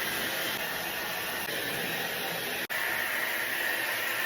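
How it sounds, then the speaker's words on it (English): Steady broadband blowing hiss of a hair dryer used to blow dry hair, holding level and close throughout with one brief dropout near the middle, no talk over it. "I love my hair dryer"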